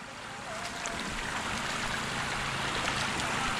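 Strong water rushing through a flooded rice paddy in rainy weather, a loud, steady broadband flow with faint trickling detail, continuous throughout and no talking.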